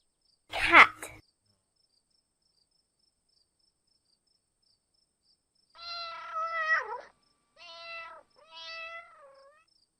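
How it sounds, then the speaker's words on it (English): A domestic cat meows several times, a few drawn-out, wavering cries after a brief sharp noise at the start, close and clear against silence. "cat,"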